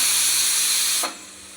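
A loud, steady hiss of steam jets out of a pressure cooker after cooking dal khichdi, then cuts off abruptly and leaves a softer background hiss.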